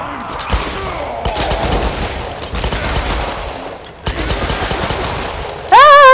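Rapid gunfire bursts in the Tomb Raider video game, loud and close, repeating across the clip with short gaps, ending in a sharp rising electronic tone.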